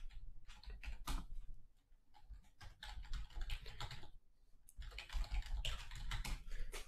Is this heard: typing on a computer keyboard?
yes